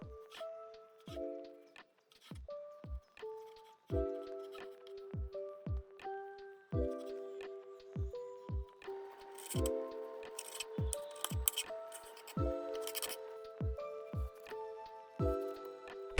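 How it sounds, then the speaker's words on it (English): A knife chops through stacked zucchini slices into noodle strips, a steady series of crisp, close taps on a cutting board, fairly quiet, over soft background music. "Put the zucchini layers on top of each other. Then cut them into noodles shape."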